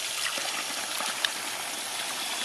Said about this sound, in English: Have a 3/4 horse pump in there that's just on right now, pumping water out